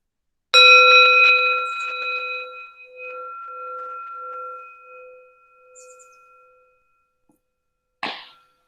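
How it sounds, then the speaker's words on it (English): A meditation bell is struck once to open a sitting practice, a clear, loud ring that hums and fades slowly over several seconds into silence, followed by a brief soft rustle. "Ring a bell to begin."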